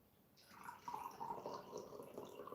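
Water pours into a drinking glass in a kitchen, a soft, close, trickling stream that starts abruptly after a brief quiet moment and continues with a faint gurgle to the end.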